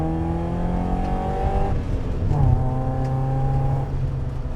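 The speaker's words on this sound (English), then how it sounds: "And we accelerate hard, second gear up the hill." A BMW E30 318iS pulls hard in second gear up a hill, its four-cylinder engine note climbing steadily, dipping briefly mid-pull and then rising again, loud and close from inside the car.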